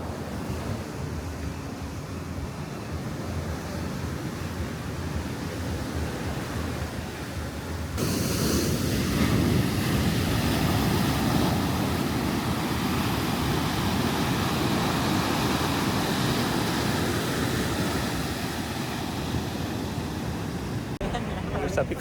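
Waves breaking on a coastline, a steady broad roar that swells louder midway through and holds, with wind rushing across the microphone.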